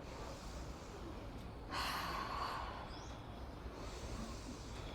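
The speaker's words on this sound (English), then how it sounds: "Take 5 sharp inhales." A single sharp, forceful inhale during a yoga breathing exercise in a Hatha and Vinyasa class, close and breathy, rising out of a steady background hiss and lasting about a second.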